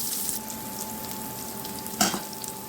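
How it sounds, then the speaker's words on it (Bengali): Chopped onion hisses in oil in a kadai, a continuous near sizzle with one sudden louder burst about two thirds through, as if stirred or tipped in. "এবার কড়াইতে যে তেল আছে তাতে দিয়ে দেবো পেঁয়াজ কুচি"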